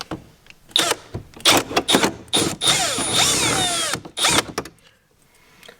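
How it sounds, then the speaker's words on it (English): A power drill whines in short bursts while drilling a hole in plastic, then runs steadily for a couple of seconds with rising and falling pitch before stopping, loud and close. "we're gonna drill a hole in this plastic"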